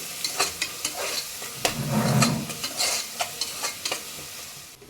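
Onions fry in a pan for country chicken curry, a steady close sizzle broken by repeated scraping stirs of a spoon against the pan, with no voices over it.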